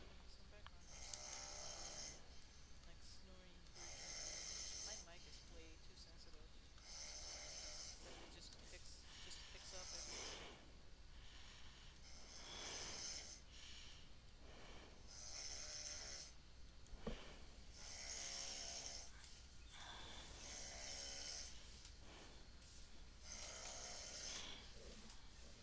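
A person snores rhythmically in the background, each breath a rasping swell recurring about every two to three seconds over a steady hum, picked up by a very sensitive microphone.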